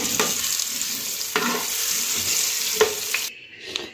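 Potatoes frying in oil in a kadai give a steady, close sizzle with soft stirring scrapes that suddenly drops away near the end, leaving near quiet.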